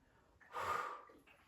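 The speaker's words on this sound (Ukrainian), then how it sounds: "Вдих, видих. Вдих, видих." One deep, audible breath taken during an interval workout: a breathy inhale-exhale swell of about half a second, close and fairly quiet.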